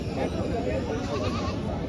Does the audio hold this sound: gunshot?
no